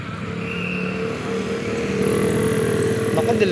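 A truck hauling a windmill with escort vehicles passes along a road in Lumban and Kalayaan, Laguna. Its engine drone is loud and steady and swells as it comes closer, while onlookers chatter nearby.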